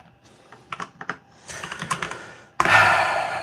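Keys on a computer keyboard in a home studio are struck in quick bursts of clicks, followed by a louder, denser rattle of fast typing near the end.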